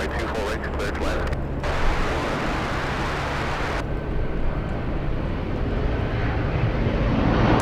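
A Korean Air heavy jet lands at Los Angeles International Airport on runway 24 right, a continuous loud roar of engines and rushing air that holds steady, with a brief voice near the start.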